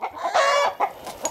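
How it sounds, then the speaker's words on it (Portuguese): Chickens clucking on a rural farm at dawn, several birds calling in quick, bright bursts close by, one longer drawn-out call in the middle. "Olha que alegria as galinhas aí."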